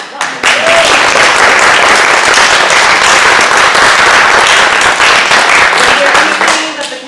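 Loud, sustained applause from a theater audience, dense clapping that swells quickly and holds steady before tapering off at the end.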